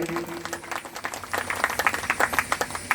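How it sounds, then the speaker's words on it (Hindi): Rapid, uneven hand claps from a group at a religious devotional gathering, growing denser and louder toward the end, with a faint hum underneath. "जोरदार ताली"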